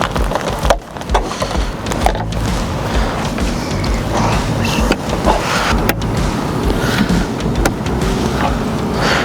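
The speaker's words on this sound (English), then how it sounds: "That can be done through this little access panel here, which we're going to go ahead and remove with some plastic pry tools" Plastic pry tools work off a tailgate access panel on a 2021+ Ford Bronco, giving close, dense scraping and plastic creaking with sharp snaps as clips pop free, steady and loud with no talk.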